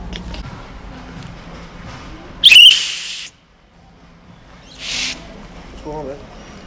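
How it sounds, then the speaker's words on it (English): A loud whistle blown twice near someone's ear as a prank, two piercing shrill blasts separated by a pause, with quiet background noise and murmured talk around them. "I blew it in your ears? Yeah. I did it. It's a whistle."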